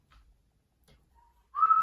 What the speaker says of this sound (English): That whistle always cracks me up.